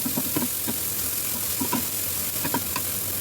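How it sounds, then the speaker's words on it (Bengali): Prawns coated in turmeric and salt frying in a pan with chilli, garlic and black cumin over low heat, giving a steady close sizzle with small crackling pops recurring every second or so. "এবার হলুদ নুন মাখিয়ে রাখা চিংড়ি মাছগুলোকে ভেজে নেব।"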